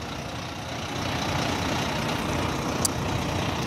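A 2012 Volvo B9R coach with a Caetano Levante body and a 12-speed I-shift automated gearbox drives along. Its engine gives a steady, dense rumble heard from inside, with a brief faint high click near the end.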